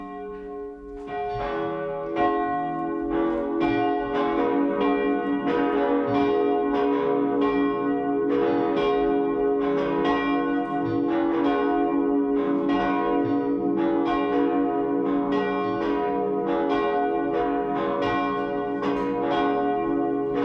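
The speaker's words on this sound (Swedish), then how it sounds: "Och låt oss nu lyssna till kyrkklockorna." Cathedral church bells ring out continuously, overlapping strikes forming a rich, resonant peal that keeps a steady rhythm for about twenty seconds, with no talk.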